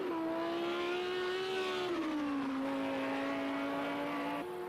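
A Lamborghini GT3 race car in a PS4 racing game at Laguna Seca screams at high revs, its engine pitch holding, dipping on a shift and rising again, loud and alone.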